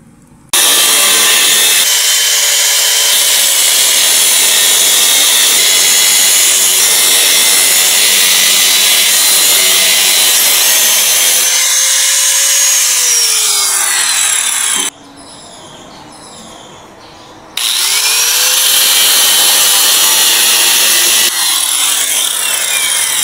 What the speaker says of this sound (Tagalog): Dito natin tatabasin ng cutting disc grinder para pag binalik natin parang original din.